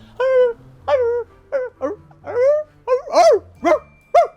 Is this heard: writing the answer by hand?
no